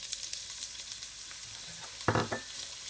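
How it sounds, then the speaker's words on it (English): Onions sizzle in a small wok on a cooker, a soft steady hiss that runs throughout, broken near the end by a couple of brief clanks as the pan is stirred. "I've got my little wok pan here on my cooker, and I'm gonna go in with my onions and get my onions tender and fragrant"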